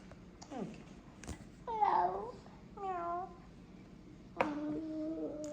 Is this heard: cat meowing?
yes